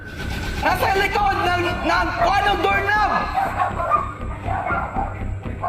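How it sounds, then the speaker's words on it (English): Dogs bark and yip under loud, continuous human shouting, with the sounds overlapping throughout. "The neighborhood dogs start barking as he continues to holler"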